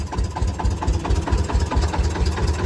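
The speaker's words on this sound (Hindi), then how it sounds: "ले भाई ट्रैक्टर आ गया दोस्त" A tractor engine idles close by in a farmyard, a steady low rhythmic chugging with regular pulses throughout and no talk over it.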